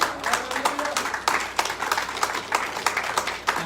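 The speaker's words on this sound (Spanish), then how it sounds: "Den el aplauso a Cristo" A church congregation applauds during a sermon, irregular clapping with distinct sharp hand strikes in a room, moderately loud and continuing steadily without speech.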